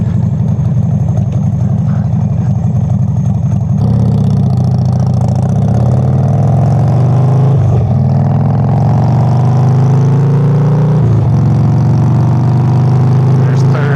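A new motorcycle fitted with a wide 300 rear tire revs up through successive gears, a loud, close engine drone climbing in pitch, dipping at each shift, then rising again.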